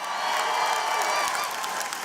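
A graduation convocation audience breaks into sustained applause with some cheering, a broad, even wash of clapping from a large crowd that stays loud throughout.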